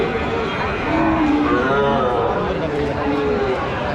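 Cattle lowing at a busy livestock market, several drawn-out moos rising over a dense crowd of voices and milling animals, with people talking close by throughout.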